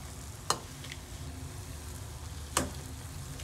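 Palmyra fruit panagaai deep-frying in oil at medium heat makes a steady low bubbling sizzle, broken by two sharp utensil clinks about two seconds apart, close by with no voices.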